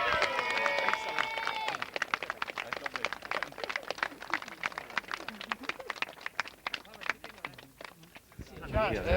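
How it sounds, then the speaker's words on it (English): An audience applauding at a sponsorship cheque presentation, with dense, steady clapping from many hands that carries on for several seconds, opening under a loud voice and ending with a speaker talking again. "let's give him a big round of applause"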